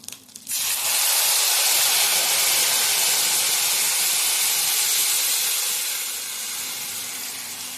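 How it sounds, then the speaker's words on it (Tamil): Thin buttermilk and rice flour batter hits a hot, oiled pan, erupting into a loud, dense, continuous sizzling hiss that eases slightly toward the end, with no talk. "இந்த மோர் அரிசி மாவு நீர்க்க கரைச்சி வச்சுருக்கோம் அதை இதில் ஊற்றிக்கலாம்"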